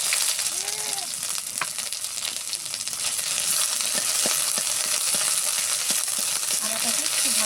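Ginger paste frying in oil with chili and cumin, a steady close hiss and crackle with intermittent stirring taps throughout.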